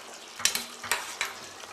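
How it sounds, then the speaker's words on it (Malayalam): Spices tempering in hot oil for a coconut fried chicken curry: a steady close sizzle with several bright crackling spits and pops in quick succession, no talk. "ഇപ്പോൾ വറുത്തരച്ചതായതുകൊണ്ട് ഞാൻ അല്പം താളിക്കുകയാണ്."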